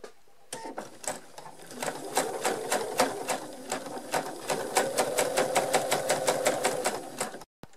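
A sewing machine stitches around the edge of a small fabric pouch, its needle pounding in a fast, steady rhythm close by, with a brief pause partway through and an abrupt stop at the end, no voices.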